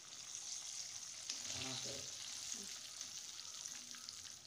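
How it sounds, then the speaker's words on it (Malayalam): Breaded chicken pieces fry in hot oil at home, KFC style, giving a steady, faint hiss and crackle of bubbling oil with a few soft clinks near the start. "ഓയിൽ നന്നായിട്ട് ചൂടായി കഴിഞ്ഞാൽ ചിക്കൻ ഇട്ട് കൊടുക്കുക"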